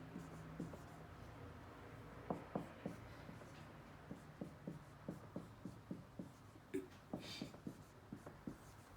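A math problem is written out by hand, a series of quiet, close scratching pen or marker strokes in an uneven rhythm, with faint background sounds between strokes.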